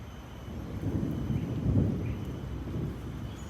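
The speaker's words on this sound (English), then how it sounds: "And you can hear the thunder is coming in." Distant thunder rumbles low and rolling, swelling briefly before slowly fading, with no voices.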